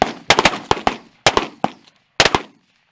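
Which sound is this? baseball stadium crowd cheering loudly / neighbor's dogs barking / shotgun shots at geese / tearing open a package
shotgun shots at geese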